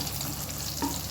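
Green chillies frying in hot oil in a pan for a tomato and sesame chutney, giving a steady close sizzle with a brief stirring scrape near the end.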